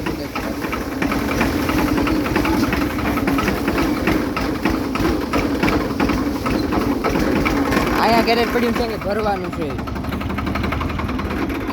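A tractor engine idles nearby with a steady, loud low chugging rumble throughout, while people talk over it.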